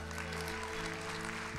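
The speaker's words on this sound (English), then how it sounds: "give a Chloe a round of applause." Church congregation applauding at a Sunday service, a steady, dense wash of clapping filling the room throughout with no voices over it.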